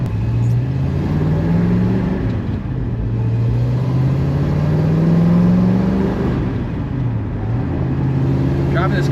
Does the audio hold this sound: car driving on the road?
yes